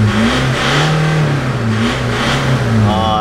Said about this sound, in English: we've just finished installing the exhaust and let's hear how it sounds like